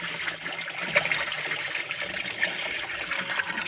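Water from an electric pump motor pouring into a 500-litre tank at night, a steady, fairly faint splashing trickle with small irregular surges.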